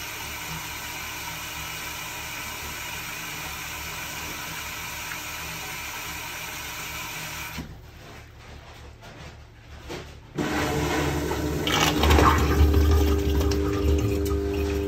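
A Saniflo Sanicompact 43 macerator toilet, just repaired after a blockage, starts up after a button press: a steady hum drops out briefly, then a loud, close pump-and-water whir with gurgling, continuing to the end.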